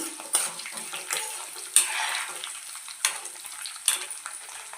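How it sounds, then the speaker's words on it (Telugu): Mustard seeds, cumin and dried red chillies crackle and sizzle in hot oil for a tomato onion chutney, with close spoon stirs and a few sharp pops, no voices. "కొద్దిగా ఆవాలు, జీలకర్ర, ఎండుమిరపకాయలు వేసుకొని బాగా వేసుకుందాము"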